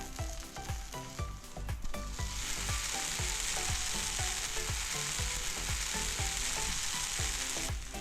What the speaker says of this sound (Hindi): एक बार ये डोसा को पलट के भी पका लेते हैं।